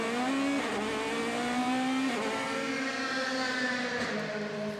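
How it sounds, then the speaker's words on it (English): René Rast's DTM race car at Hockenheim roars onboard, its engine revving up and dropping as it shifts through the gears after a hairpin, loud and continuous. "You can really hear the car roar as it goes up through the gears."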